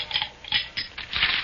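Ice cubes clinking and rattling against a glass in a series of short, crisp bursts, close and moderately quiet, with no voices.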